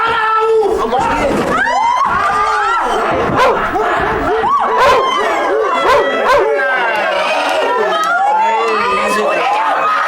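Dogs bark and howl repeatedly amid a loud, noisy crowd with shouting voices, the animal calls rising and falling throughout.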